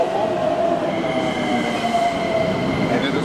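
A Japanese local train that stops at every station runs steadily, with a continuous rumble and a faint whine throughout, no voices.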